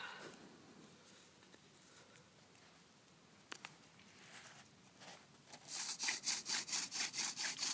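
A wooden hand drill is rubbed between the palms for a friction fire in a survival setting without knife or flint, first as quiet scattered scraping, then as a loud, fast run of rhythmic back-and-forth grinding strokes near the end.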